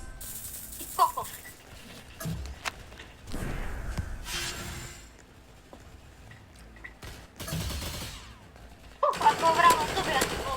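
Automatic gunfire in the Roblox shooter Hypershot comes in several sharp, rattling bursts spaced through the stretch, the last one long and loud. Excited players talk in between the bursts.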